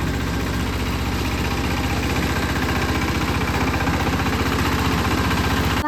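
A mini tractor engine idles steadily and loudly throughout, a constant low chugging rumble with a rapid even pulse and no voices.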